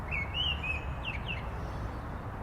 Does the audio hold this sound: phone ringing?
no